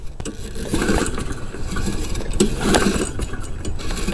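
A small engine runs steadily at close range, a lawn mower's chugging drone holding an even pitch throughout with slight surges, with what may be a faint knock.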